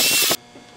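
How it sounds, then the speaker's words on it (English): A power drill bores pocket holes into the ends of wooden rails in a brief, loud, harsh burst that cuts off abruptly into near quiet. "Then I drilled pocket holes on the ends of each rail."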